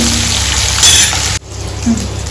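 Tamarind rice (pulihora) ingredients fry in a pan with a steady, close sizzle that runs throughout, briefly brightening midway and then settling into a softer hiss.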